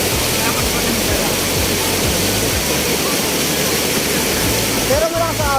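Strong river current at Camp Paraiso in Nueva Ecija, a loud, dense rushing wash of water running throughout with a steady low rumble underneath and people talking over it.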